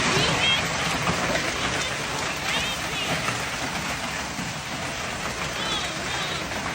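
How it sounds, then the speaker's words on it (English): Hail and heavy rain pelt vehicles and roads in a severe Oklahoma storm near the Red River, a dense, continuous roar of impacts with faint whistling and voices in the background. "capturing dramatic footage of large hail-pelting vehicles and roads turning slick with ice"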